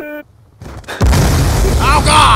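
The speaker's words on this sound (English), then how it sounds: "There's an explosion near me, Vegeta." An explosion in the multiplayer shooter Black Ops II erupts as a loud, sudden boom that sustains as a heavy roar after a quieter moment, with voices talking over it.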